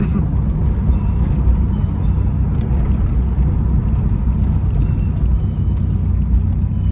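Turbocharged 2.3-liter four-cylinder in a 1990 Ford Foxbody Mustang running steadily, a loud, continuous low engine drone with a faint airy whine on top, close and unbroken throughout.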